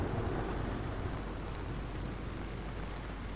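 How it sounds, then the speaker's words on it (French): Steady rain drumming on tent canvas during a storm in Red Dead Redemption 2, a dense, even patter with low rumbling beneath, continuous and close, no voices. "Le bruit de la pluie sur la toile de tente."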